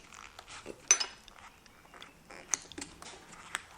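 A 19 mm wrench being handled against a motorcycle bar end during a mirror install, making quiet, sparse metallic clinks and taps, a few sharper knocks spaced irregularly with near silence between.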